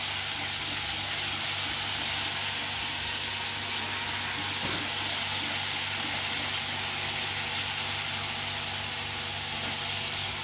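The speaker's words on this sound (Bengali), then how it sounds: "মাছ ভেজা তেলে পেঁয়াজ দিয়ে দিলাম, ভালো করে একটু ভেজে নেবো লাল লাল করে।" Onions fry in oil left over from frying fish, giving a continuous even hiss of sizzling that holds steady throughout, with a faint low hum underneath and no voices.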